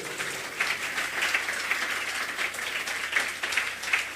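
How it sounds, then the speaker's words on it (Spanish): Applause from a church congregation during a sermon, a dense, even wash of many hands clapping at moderate volume that holds steady throughout without speech on top. "Den un aplauso al Señor Jesús."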